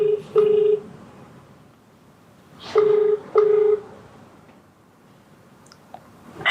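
A telephone number is dialed on a touch-tone phone: a few sharp, evenly pitched keypad beeps near the start, then a pair of longer tones a couple of seconds later, with quiet room noise between them.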